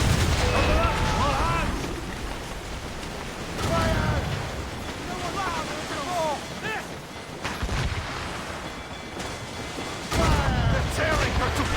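Ship cannons boom in repeated heavy volleys during a naval battle in Assassin's Creed Rogue on Nintendo Switch, with shouted voices and game noise around the blasts.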